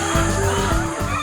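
Free-range laying hens raised among oil palm trees on a farm clucking and calling nearby, several short bursts close together with a steady outdoor background.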